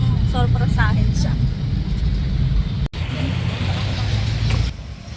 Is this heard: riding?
yes